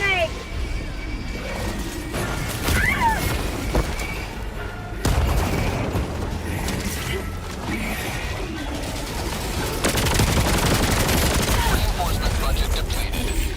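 Grenade explosion and gunfire in a video game, sustained bursts of shots with booming blasts that grow denser and louder toward the end, while game voices and effects run through the mix.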